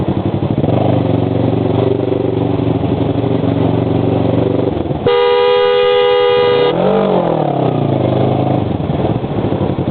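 Motorcycle riding through traffic: a steady loud engine drone throughout, broken midway by a long, loud multi-tone vehicle horn blast that bends in pitch as it passes, then engine roar resumes.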